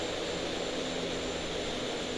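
A steady, faint whine of an Aerosoft Bronco aircraft engine in the FSX flight simulator, droning evenly while the throttle is pulled back during taxiing.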